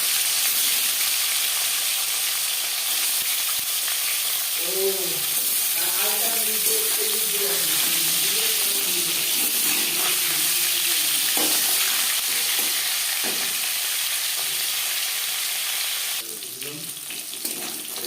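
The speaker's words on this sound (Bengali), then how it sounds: "4 চামচ রিফাইন্ড অয়েল গরম করে নিয়েছি। এবার দিয়ে দেব ম্যারিনেট করে রাখা মাছ।" Marinated fish sizzle steadily in hot refined oil in a pan. A voice murmurs briefly partway through, and the frying continues close and fairly loud.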